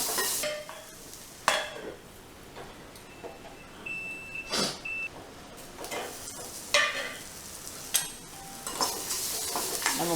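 A carrot stir-fry sizzles in a pan while a spoon stirs it at intervals, scraping strokes recurring every second or two over a continuous close frying hiss.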